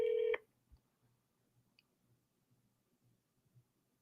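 A telephone sounds a short, loud dialing tone at the start while a call is placed to a dumpster rental company, followed by near silence with faint, sparse clicks.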